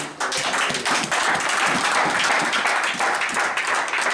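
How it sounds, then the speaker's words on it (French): A church congregation in Lyon breaks into loud, sustained applause, many hands clapping in a full, steady roar with faintly rhythmic pulses. "Acclamons cette parole de Dieu"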